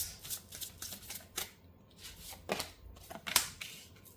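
A deck of tarot cards is shuffled by hand in short, riffling bursts and soft slides with brief pauses between them. The sound is close and fairly quiet, with no speech.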